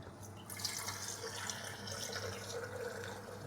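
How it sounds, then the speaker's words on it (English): Tap water running steadily and loudly into a cooking pot holding rinsed beans, a continuous splashing hiss at close range with no talking. "I need water for the beans and a lot of it."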